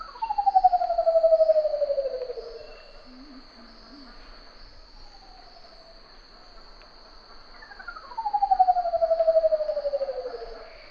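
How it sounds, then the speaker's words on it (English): Curl-crested manucode giving long, loud descending trumpet-like calls, two strong sweeping notes at the start and end with a fainter one between, clear and fairly near over a steady high insect drone. "The reason the curl-crested Manucode can make these incredible sounds is because they have a hidden feature under their skin"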